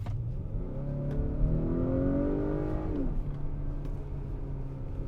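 A 2020 Acura RDX A-Spec engine in Sport Plus mode revs up from a steady idle to a rising, rumbling roar, holds, then drops back suddenly to a deep idle, heard from inside the car with no talk.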